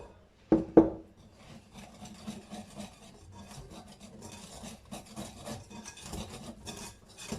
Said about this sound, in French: Au début, on mélange quoi avec le fouet